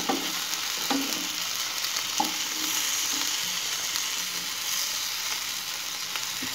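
Tomatoes fry in a pan with a steady, close sizzle, broken by a few soft stirring knocks, and no one speaks.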